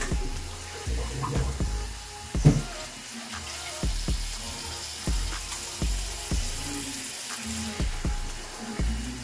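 Water is rinsed out of a soup pot in a kitchen sink, a continuous splashing hiss broken by repeated sharp knocks and clatters of the pot, close and fairly loud with no talking.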